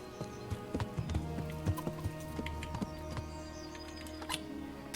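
Horse hooves clip-clop in the Kingdom Come: Deliverance video game, a scattering of hard, uneven knocks at close range over a faint steady background hum.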